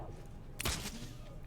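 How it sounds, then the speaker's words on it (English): Gunfire in the tactical shooter Rainbow Six Siege during a collegiate esports match, a single sharp burst of shots passing from outside to inside, brief and moderately loud over a low ambient background. "There's some gunshots going by from the outside to the inside."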